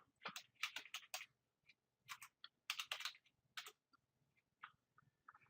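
Typing on a computer keyboard to enter a username and password, with clustered bursts of close, crisp key clicks separated by short pauses, and no voices.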